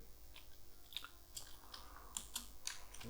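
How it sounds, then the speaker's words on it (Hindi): Typing on a computer keyboard into Notepad: a faint, irregular run of light key clicks, scattered across a few seconds with no voice. "आप इसमें कुछ भी टाइप कर सकते हैं, जैसे कि हम लिखते हैं यहाँ पे"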